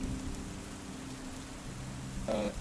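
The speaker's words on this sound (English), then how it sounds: "The storm is still going pretty strong outside." Steady rain from a storm falls outside, a continuous broadband hiss with a low rumble beneath it, holding an even level throughout, with a brief brighter patter near the end.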